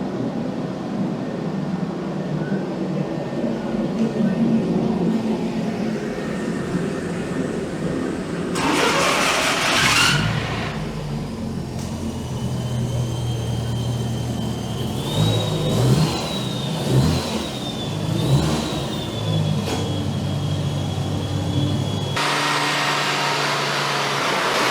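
A Renault Clio being mapped on a dyno revs hard and repeatedly, its engine rising and falling in loud, close bursts over a constant fan roar, with a sharp change in the sound about two-thirds through.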